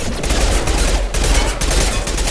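Sustained rapid gunfire in the sci-fi shooter Mass Effect 2 as combat erupts against hostile mechs at a colony, loud and continuous with dense overlapping shots and no pauses.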